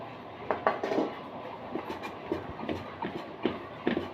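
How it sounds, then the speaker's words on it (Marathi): Hot cooked lentils being mashed with a metal cup for puran poli, heard as soft irregular clinks and scrapes of metal against a pot at moderate level, with no talking. "इथं मी फुलपात्र घेतलं त्याच्या साह्याने डाळ बारीक करते कारण जरा डाळ गरम आहे"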